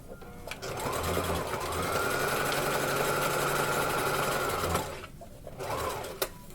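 A sewing machine runs in one steady burst of several seconds, stitching fabric for a lined bucket shoulder bag, then stops and gives a brief second run; close and clear with no talking.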